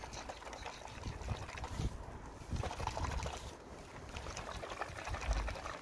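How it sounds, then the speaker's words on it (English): A bottle of K-Seal coolant leak sealer is shaken vigorously for a Toyota Corolla Verso 1.8 VVT-i, giving continuous close liquid sloshing and rattling with no one speaking. "as directed in the instruction, it says that you need to shake it rigorously"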